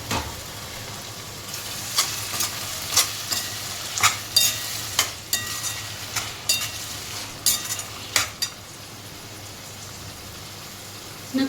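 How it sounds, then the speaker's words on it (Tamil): Onions, curry leaves and tomatoes sautéing in a pan, a continuous soft sizzle broken by frequent sharp scraping and tapping strokes of a spoon through the mixture, close by with no talk. "தக்காளி நல்லா குழைய வேகிற அளவுக்கு வதக்கிக்கலாம்"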